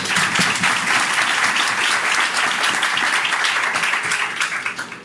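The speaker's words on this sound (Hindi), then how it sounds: "ज़रा ज़ोरदार तालियां बजा दें।" Loud, sustained applause from a large crowd at a sermon, dense clapping that holds steady for several seconds before tapering slightly at the end.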